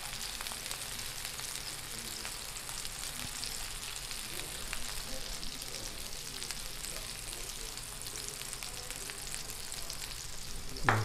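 Steak searing in a hot pan with butter, a soft steady sizzle and crackle throughout at low volume.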